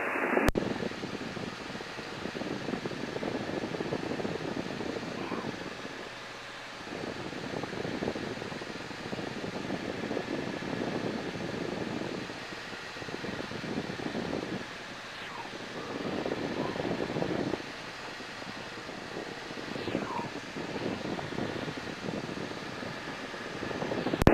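A Robin DR 400 light aircraft engine drones steadily in flight near Ile de Bréhat on a VFR trip from Lannion to Dinard, heard from inside the cabin as a continuous broadband hum that swells and eases gently, with no talk.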